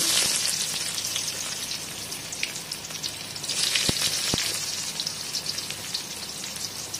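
Onions frying in hot oil in a pan give a dense, steady crackling sizzle like rain on a surface, close and continuous, with a couple of sharp knocks near the middle and no talk.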